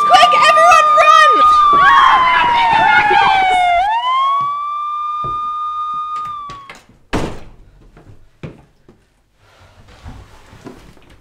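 A loud police siren with rising and falling harmonic wails dominates the first seven seconds, then cuts off, followed by a few thumps and faint rustling.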